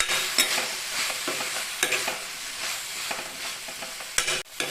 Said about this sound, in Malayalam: ഈ ഫ്ലെയിം ഒന്ന് കുറച്ച് വെച്ചിട്ട് ഇതിൻ്റെ ആ ഒരു റോ ടേസ്റ്റൊക്കെ പോണ വരെ നന്നായിട്ടൊന്ന് ഇറക്കി കൊടുക്കുക